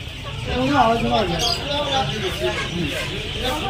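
Clucking from a crowd of colourful native chickens at a poultry market rises and falls throughout, with people talking in the background.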